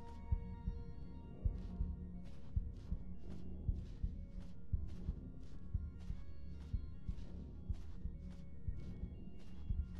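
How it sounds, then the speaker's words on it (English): A low, steady heartbeat thumps from a strange tree in the VR game ALICE VR, its regular pulses running the whole length, with sharper periodic clicks and a humming game ambience over it. "Am I hearing a heartbeat?"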